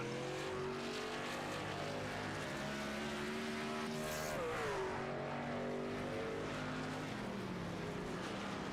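Racing trucks at a road-course series round in Montreal drone steadily under caution, a continuous layered engine roar with shifting pitch as they run toward the pace car, fairly faint and without talk.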